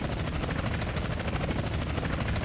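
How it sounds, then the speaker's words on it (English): Police helicopter from GTA San Andreas in pursuit, rotor thumping steadily and loudly throughout with a dense, continuous chop close overhead. "Chopper on our tail"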